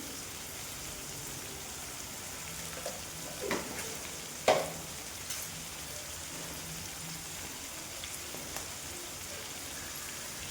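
Bottle gourd and egg curry is stirred in a hot pan, a soft continuous sizzle with a few sharper scrapes and clinks from the spoon.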